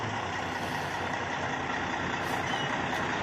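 A Kenworth truck drives and turns with a steady, loud engine rumble that stays constant throughout, and brief high squeaks near the end.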